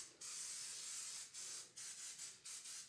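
Cooking spray hisses onto mini bundt pans in a run of about five or six short, close bursts of varying length, each with a brief pause between them.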